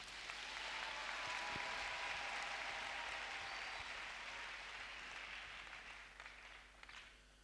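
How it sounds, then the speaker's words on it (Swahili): A church congregation at an EAGT gathering claps steadily for Jesus, a broad, continuous wash of applause that stays fairly distant and slowly fades toward the end. "Tumpigie makofi Bwana Yesu"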